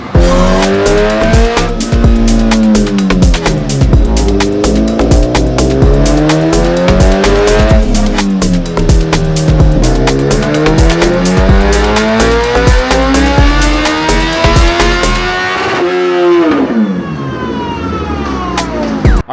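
A loud 2023 Suzuki Hayabusa engine with aftermarket cams screams at full throttle on a dyno, its pitch climbing repeatedly through several gear shifts, then cutting back to a lower drone near the end.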